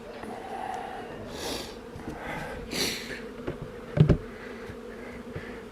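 Honey bees from newly installed package colonies buzz around their hive in a steady, moderate drone, with a few louder passes and a brief close knock or thump near the end.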